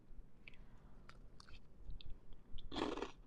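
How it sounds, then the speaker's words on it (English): Close-up chewing of a griddle chicken Caesar salad with crunchy croutons and lettuce: soft, irregular chews and small bites build to a loud, crisp crunching burst near the end. "So I'm getting the crunch from the crouton. I'm getting the crunch from the lettuce."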